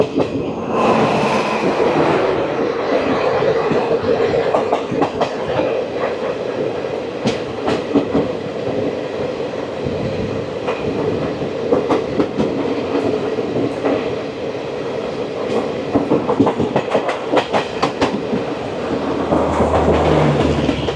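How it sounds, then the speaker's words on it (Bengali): The 12985 Jaipur to Delhi Sarai Rohilla AC double decker express rolls into a station, a loud, continuous rumble of wheels with rhythmic clickety-clack over rail joints and occasional squeals, with no talk. "চলে আসছে ট্রেন নাম্বার 12985। এটা জয়পুর থেকে দিল্লি সরাই Rohilla AC double decker express."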